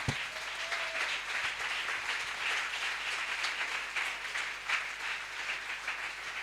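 A church congregation at a Sunday service applauds steadily, a dense wash of many hands clapping at moderate distance throughout.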